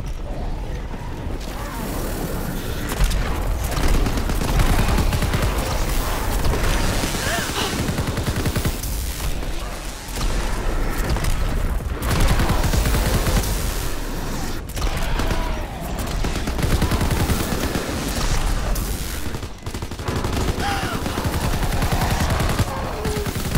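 Gunfire in the Call of Duty WWII Zombies map The Final Reich, with dense, continuous shooting and mechanical clatter carrying loudly through the whole stretch, broken by brief gaps between bursts.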